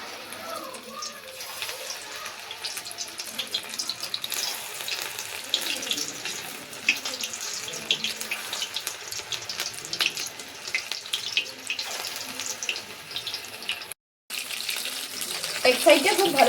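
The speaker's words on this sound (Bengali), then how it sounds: "এরপর এক এক করে পকোড়িগুলো ছেঁকে দেব।" Mushroom pakoras frying in hot white oil, a steady dense crackle and hiss that carries on close and fairly loud for the whole stretch, with a brief dropout near the end and louder bubbling after it.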